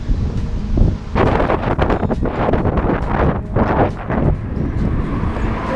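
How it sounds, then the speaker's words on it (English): Strong wind buffets the microphone in loud, rough gusts, roaring and fluttering without pause. "Oh, it's a bit windy."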